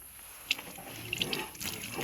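Water is poured into a clay and fiber mix for desert plaster, a soft wet trickle with small splashes and drips, faint and close, with no talking.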